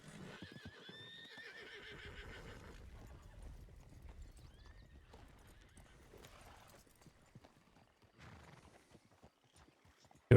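In the Red Dead roleplay game, a horse whinnies clearly near the start while hooves clip-clop at a walking pace, then the steps thin out and fade to quieter scattered sounds.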